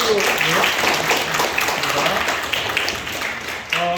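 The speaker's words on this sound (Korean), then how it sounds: "우리 선교사님께 한 번만 더 박수" Applause for a visiting missionary at a youth church service, a dense sustained wash of clapping from a crowd that continues throughout, with a voice speaking faintly over it near the end.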